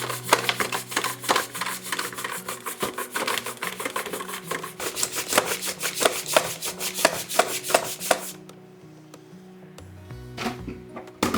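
Potatoes are sliced thinly on a mandolin in rapid, even, close-up strokes that rasp steadily for about eight seconds, then stop, leaving a quieter pause with a few softer scrapes.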